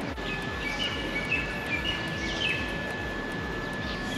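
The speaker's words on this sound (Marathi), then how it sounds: "पक्ष्यांचा सुद्धा आवाज येत असेल तुम्हाला" Morning birds chirp and tweet in short bright bursts over a quiet, empty street, repeated calls scattered across the moment above a low steady background hum, with no one talking.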